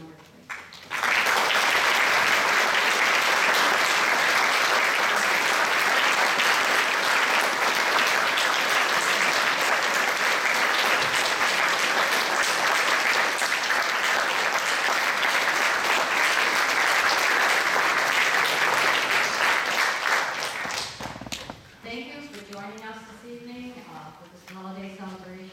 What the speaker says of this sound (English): I think we all owe Darla Bair a real round of applause, and the musicians and the chorus.